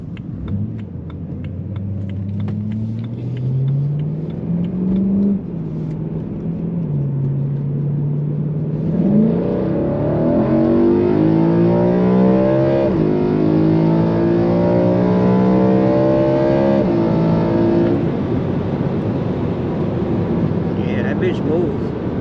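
A BMW E92 M3 accelerates through the gears, engine drone climbing in pitch and dropping at each shift before surging louder and harsher, heard from inside the car with occasional talk.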